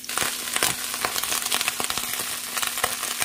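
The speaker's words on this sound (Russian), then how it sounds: "Ох, шкварчит так, мои дорогие, в общем, лук пожарился" Chopped onion sizzles steadily while frying in a pan, a close, continuous crackling hiss with occasional sharper pops and stirring clicks, no talking.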